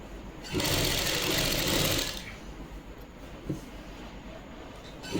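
A sewing machine stitches a Punjabi suit kameez in one close, steady burst of about a second and a half, then falls quiet with only soft handling sounds.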